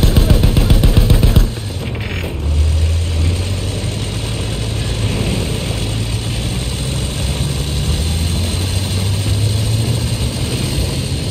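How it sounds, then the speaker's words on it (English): Enemy biplane in the World War I shooter Battlefield 1 passes overhead: a steady droning propeller engine hum over continuous mechanical clatter and battlefield noise, loud and sustained with a short burst at the start. "Enemy plane!"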